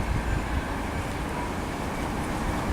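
A ScotRail Class 380 electric train at Linlithgow station makes a continuous broadband rumble and rush, close and steady for the whole clip, with no voices.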